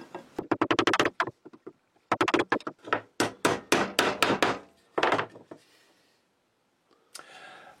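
A steel chisel is struck repeatedly to square out a hole in wood, giving close, sharp knocks in quick bursts with short pauses between the volleys and no talking.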